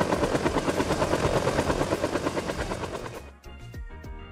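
Helicopter sound effect: a loud, steady rhythmic rotor chop that thins out and fades near the end, leaving a few scattered thumps.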